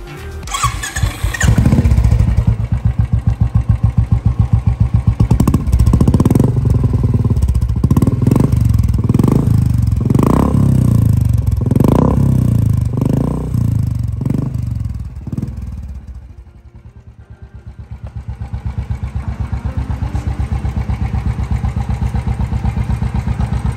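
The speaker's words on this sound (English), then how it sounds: "So now it's time to fire up the bike actually." A modified Royal Enfield Classic 350 motorcycle engine with aftermarket exhaust fires up with a loud rumble, revs in repeated bursts, then drops and settles into a steady close idle.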